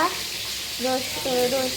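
Pointed gourd fries in hot oil while being turned, a continuous close sizzle with a voice speaking over it.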